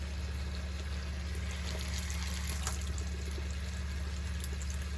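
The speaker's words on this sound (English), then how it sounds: "we've got about the same amount of water going out as we've got going in. This is still running." Water running from a motorhome tap and through its boiler, a faint, steady trickle and pour over a constant low background hum.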